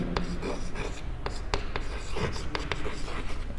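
Marker or chalk strokes on a board during a chemistry lesson on unit conversions, a series of short, sharp scratchy strokes at an uneven pace over a steady room hum.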